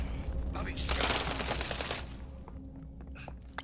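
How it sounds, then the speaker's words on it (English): Video game gunfire strikes the player as a dense, crackling automatic volley, loudest in the middle and fading into scattered shots, heard under a player's voice. "Oh, I'm being shot in the ass!"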